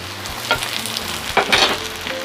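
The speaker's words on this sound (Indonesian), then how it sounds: "Ditumis-tumis, diaduk-aduk lagi." Sliced red and green bird's-eye chillies and large green chillies stir-fry in a hot pan, a loud close sizzle with quick scraping stirs and spatula clatters.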